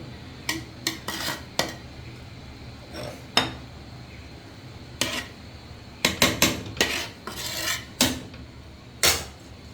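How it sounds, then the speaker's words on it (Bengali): Spoon scraping and clinking against a cooking pot as fried onions (beresta) are added to pulao, a series of sharp metallic knocks and clanks, close and fairly loud, clustered irregularly over a low kitchen background without speech. "এই যে আমি পোলার মধ্যে বেরেস্তা দিয়ে দিচ্ছি"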